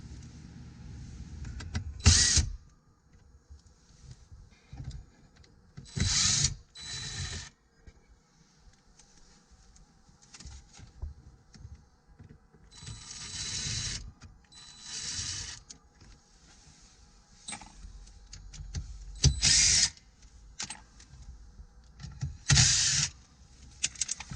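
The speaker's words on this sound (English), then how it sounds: "Now you will remove the 2 torque screws from the radio and the 2 torque screws from the monitor." Electric screwdriver whirring in short, separate bursts while Torx screws come out of the radio and monitor of a BMW F30 3 Series, close, with quiet handling noises in the gaps and no talk.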